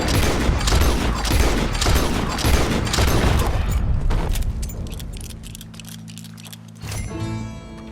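Rapid bursts of gunfire from the video game Red Dead Redemption 2, loud and dense for about four seconds, then dropping away into quieter background tones.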